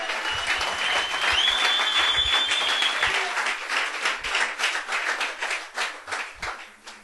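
A church congregation applauds with sustained clapping that gradually thins into more separate, distinct claps toward the end, while a faint tone runs briefly underneath.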